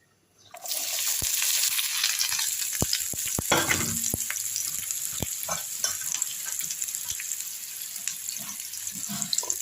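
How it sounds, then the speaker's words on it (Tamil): Onions drop into about 50 grams of hot oil in a pan for Andhra-style green chilli chutney, bursting into a loud sizzle with a few sharp clatters early on, then settling into a steady, close frying hiss. "வெங்காயம் நல்லா வதங்கட்டும்."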